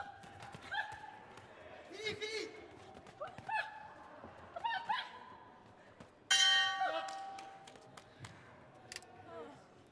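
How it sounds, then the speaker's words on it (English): A boxing bell ends a women's 48 kg bout at an amateur tournament in Kielce: a burst of rapid ringing clangs cuts through arena noise, following scattered whistles and crowd shouts, with a commentator's voice under it. "there goes the bell and the end of the fight"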